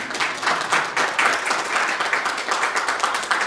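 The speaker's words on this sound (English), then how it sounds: "a big round of applause for our volunteers" A church congregation at First Parish Church of Plymouth gives a round of applause for volunteers, dense steady clapping from many hands filling the room nearby.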